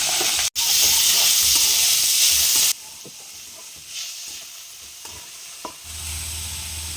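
Finely chopped chicken dropped into hot oil and stirred in a pan, an intense sizzle at first that settles into a quieter frying crackle with scattered stirring scrapes.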